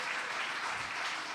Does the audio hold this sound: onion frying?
no